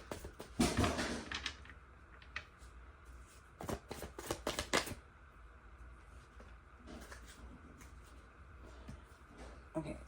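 Tarot cards are shuffled close by in quick riffling bursts, with soft slaps and rustles of the deck between them, fairly quiet with brief pauses.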